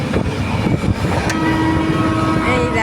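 A moving passenger train in hilly country gives a loud, continuous rumble and wheel clatter heard from on board, with a faint high whine running through it.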